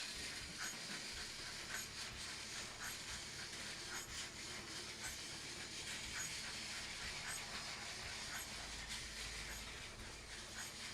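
Steady steam hiss from a Steam Along Thomas toy train, a continuous broadband rush running the whole stretch without talk, fairly close and even in level.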